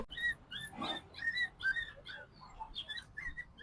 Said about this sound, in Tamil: எங்க நாய் கத்தினுக்குது? குட்டி நாய்.